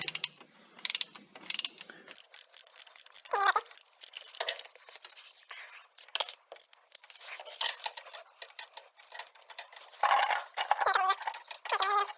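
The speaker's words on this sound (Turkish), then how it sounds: "Lokmanı takıyorum hafif bir yük bindirerekten" A ratchet with a 21 mm socket works loose a transmission drain plug, giving bursts of rapid, close clicking that stop and restart across the clip, with no talking.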